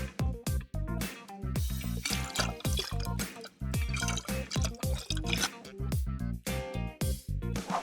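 Water splashes and drips into a bowl being filled to mix with dishwasher soap, a rapid, irregular series of close plinks and gurgles continuing throughout, with brief pauses.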